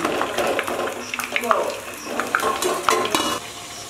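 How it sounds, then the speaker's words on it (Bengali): Pointed gourd (potol) is stirred in a hot frying pan, with a soft sizzle beneath repeated scraping and clinking of a utensil against the pan, close and steady. "তারপর নাড়াচাড়া করে কিছু সময়ের জন্য ঢাকা দেব।"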